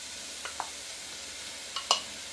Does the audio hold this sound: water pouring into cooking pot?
no